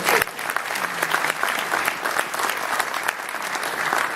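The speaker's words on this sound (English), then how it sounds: "go ahead, you can clap, my brother" An audience at a football booster gathering gives a brisk, continuous round of applause, many hands clapping close together at a steady level throughout.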